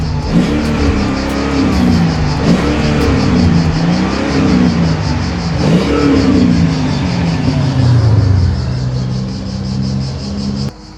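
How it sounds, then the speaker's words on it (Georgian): A Mercedes-Benz W211 with its M113 5.0 V8 revs hard up close, the deep engine note climbing and falling in several loud, repeated throttle blips. "ეს არის ნამდვილი 8 ცილინდრი"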